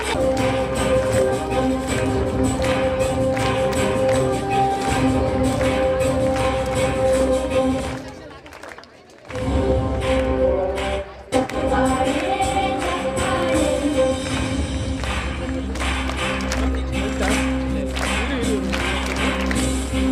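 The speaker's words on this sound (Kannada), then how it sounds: "ಚಪ್ಪಾಳೆಯ ಮೂಲಕ ವಿದ್ಯಾರ್ಥಿಗಳನ್ನ ಪ್ರೋತ್ಸಾಹಿಸಬೇಕಾಗಿ ತಮ್ಮಲ್ಲಿ ಪ್ರಾರ್ಥನೆ" Sustained audience clapping at a college program for students, loud and dense, briefly dropping away near the middle before swelling back, with music or amplified sound mixed underneath.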